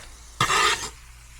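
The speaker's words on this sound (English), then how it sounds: "Both sides nice and sizzling." Spam slices frying in a hot pan with their own juices and oil give a short burst of bright sizzle lasting about half a second, loud against a quiet kitchen background.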